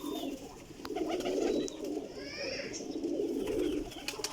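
A Rampuri pigeon coos in low, throaty rolling bursts at close range, with faint background chatter and a few small chirps.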